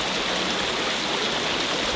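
Cranberry Creek running full after a wet autumn, a steady rushing hiss of water pouring through a culvert, dense and even throughout with no pauses.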